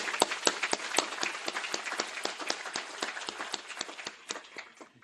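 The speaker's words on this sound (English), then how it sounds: "I think it's worth giving her a round of applause." Brisk, uneven clapping from a modest group honors an event host, individual claps crisp and close, fading slightly toward the end.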